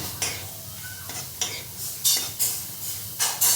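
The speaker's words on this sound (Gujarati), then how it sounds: "કિસમિસના દાણા આપણે શેકશું એટલે ફૂલીને ગોળ થઈ જશે." Raisins roasting for poha chivdo are stirred in a pan, giving a series of close, irregular scraping strokes of a spoon against the metal over a faint sizzle.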